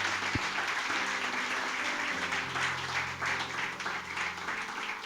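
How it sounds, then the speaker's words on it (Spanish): Sustained applause from a large church congregation, steady and fairly loud, with faint tonal music or hum beneath the clapping. "Regálale un aplauso al Señor"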